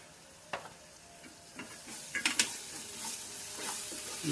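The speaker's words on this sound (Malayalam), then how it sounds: "ഇതെല്ലാം കൂടി അങ്ങ് കിണ്ടി മിക്സ് ചെയ്തെടുക്കണം" Chilli powder being stirred into Kerala-style chicken curry sizzling in a pan: a few scraping spoon strokes and clicks over a steady, hissing fry, with no talking.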